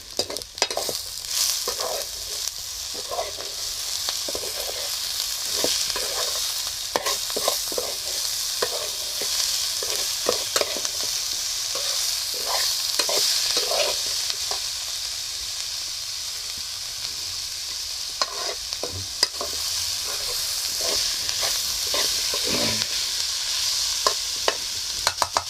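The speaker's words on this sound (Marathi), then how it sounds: "भाजी ढवळून घेतो." A spoon stirs salted cabbage and potato sabzi sizzling in a pan, with repeated scraping strokes over a constant frying hiss, close and fairly loud, with no talking.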